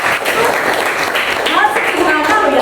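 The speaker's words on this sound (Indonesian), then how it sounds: "Oke, tepuk tangan untuk Kedi." A classroom of students clapping for a classmate, with a burst of scattered hand claps mixed with voices speaking over it.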